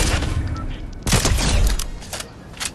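Rapid bursts of gunfire ring out in the video game Fortnite, loud and close, in two clustered volleys over a few seconds.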